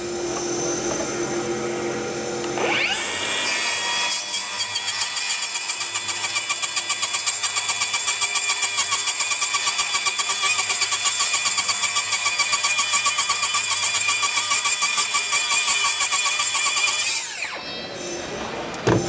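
A Milwaukee welded carbide-tooth saw blade rips steadily through an 8-foot board studded with 94 nails spaced an inch apart, a loud continuous whine with rapid ticking from the nail hits, lasting about fifteen seconds before spinning down.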